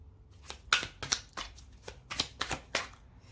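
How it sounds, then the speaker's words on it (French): Oracle cards being shuffled and drawn by hand, a run of quick crisp riffling flicks and snaps, close and fairly soft, with no voice. "je vais prendre une petite carte pour voir avec les 22 étincelles de vie"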